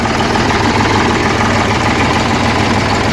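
A tractor engine idles loudly and close by, with a constant low, rough rumble and a slight knocking vibration running throughout, and no speech.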